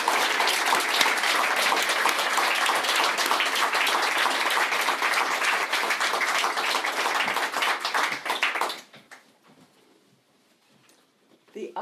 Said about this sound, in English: So special applause for Val.